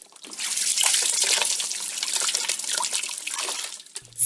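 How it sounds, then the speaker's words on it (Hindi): A bucket filling with water for a bath: a steady splashing, hissing stream of water running for about four seconds, then a brief clunk at the end. "एकर बाद एक बाल्टी पानी भरल गेल"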